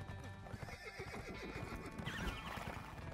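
A horse in a video game whinnies loudly and gallops with rapid, rolling hoofbeats, close and dense across the whole stretch, with no talking over it.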